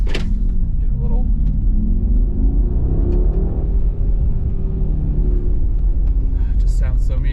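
Mercedes-AMG G63, a heavy SUV of about 7,000 pounds, pulls away with a deep, continuous rumble. The exhaust holds steady and loud throughout, with no clear rise in revs, and a voice is heard briefly over it.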